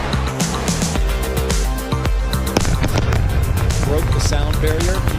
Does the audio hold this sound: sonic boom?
yes